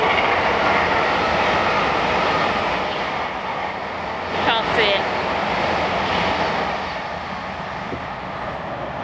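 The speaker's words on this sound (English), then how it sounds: "I think that's a train." Continuous low rumble of a train passing at some distance near a canal, fading slightly partway through, while a person speaks briefly over it.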